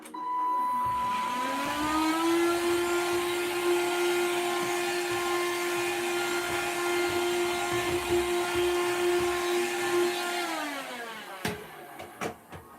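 A vacuum cleaner runs indoors: its motor whines up to a steady, fairly loud hum that holds for about ten seconds, then winds down and ends with a few clicks.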